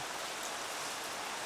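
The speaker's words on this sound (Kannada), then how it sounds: "ಮಳೆ, ತುಂಬ ಮಳೆ" Heavy monsoon rain in the hill country, a steady, dense hiss of downpour with no pauses and no voices.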